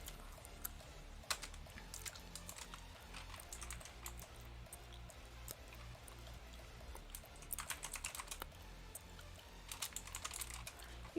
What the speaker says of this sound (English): I was so far done typing